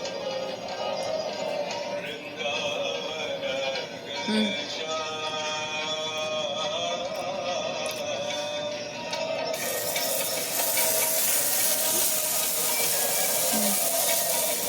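Dosa batter sizzles and hisses as it is poured and spread across a hot oiled pan, a steady close frying hiss that swells louder partway through, with faint clinks and no talk.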